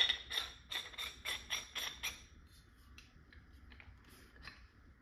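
A muzzle device is threaded onto a Tippmann TMC paintball marker barrel: a quick run of close, rhythmic metallic ratcheting clicks, then quieter faint scrapes and taps.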